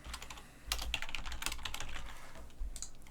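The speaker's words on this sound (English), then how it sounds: "And then we just simply type in the subject" Close, quick typing on a computer keyboard as a message subject is entered, a dense patter of light key clicks running steadily for a few seconds with no talking.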